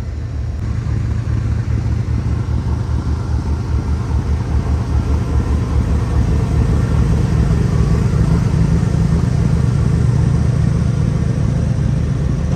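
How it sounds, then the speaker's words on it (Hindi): The diesel locomotive of the Karakoram Express running from Lahore gives a steady, loud low rumbling drone with a constant engine throb and no breaks. "कोई एक बार लोकोमोटिव की आवाज़ सुन लें"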